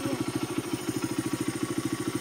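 An XR pit bike engine idling on a dirt track, a steady low, rapid putter with a regular throbbing rhythm, heard fairly close and fairly quiet with no talking.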